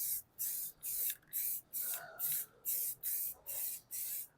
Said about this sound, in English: I'm spray painting with cans